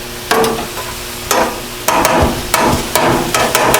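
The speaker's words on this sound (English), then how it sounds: "Look how fast it fries up." Cheesesteak meat frying on a grill, with a steady sizzle broken by several loud, sharp scraping and clattering bursts, close and with no talk.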